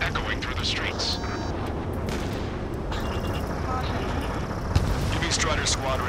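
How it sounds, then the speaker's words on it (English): Ace Combat 7 video game cutscene in a city under martial law: dense, continuous rumbling battle noise with bursts of gunfire and booming blasts, a heavy roar underneath, and a sharp crack near the end, with speech layered over parts. "A city under martial law, gunfire and the roar of jets echoing through the streets"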